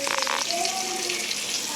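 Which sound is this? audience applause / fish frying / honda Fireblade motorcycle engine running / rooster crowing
fish frying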